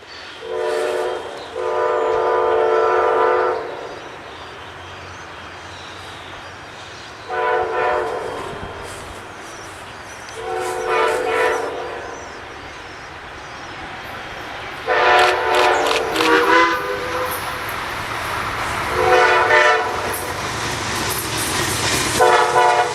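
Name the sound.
Amtrak train horn and steam locomotive whistle duel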